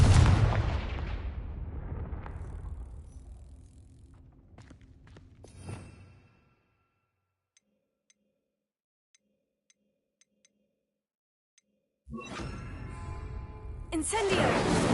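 A Confringo fire-blast spell in Hogwarts Legacy bursts with a loud booming impact that rumbles down into near silence, then a second burst of noise erupts toward the end.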